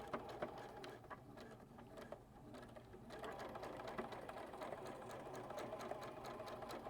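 A Juki HZL DX7 sewing machine stitches through rope, its needle running in a steady, rapid mechanical patter that grows slightly louder and busier after a brief lull, with no talking.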